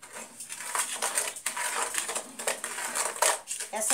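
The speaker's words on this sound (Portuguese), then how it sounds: "Dou uma mexida nesse açúcar." Coarse sugar stirred with a spoon in a large old handleless pot, giving continuous close scraping and gritty rattling with metallic clinks, fairly loud, with no talk.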